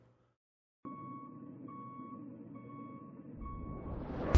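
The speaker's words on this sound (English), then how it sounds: "Got a truck backing up." Steady electronic beeps repeat at a regular rhythm from a truck reversing nearby, over a low rumbling engine that swells toward the end.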